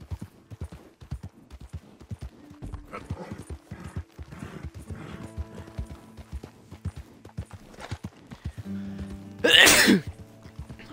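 Horse hooves clip-clopping in a steady rhythm from the Red Dead Redemption 2 video game, close and clear, with a brief loud snort or whinny near the end.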